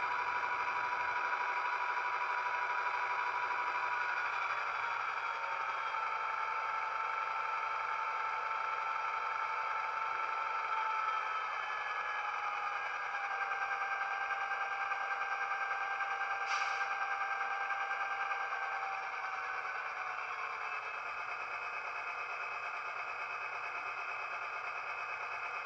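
Walthers Mainline NW2 model diesel locomotive sound unit idling steadily, with a continuous droning engine hum and faint tonal whine, close and even throughout with no talking.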